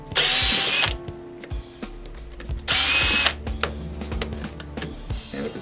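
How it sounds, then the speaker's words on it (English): Two loud bursts of a power driver backing screws out of the piston retainer on an SSI Series I HPLC pump, each lasting under a second, with small clicks and handling sounds between them. "you want to take out both of the screws"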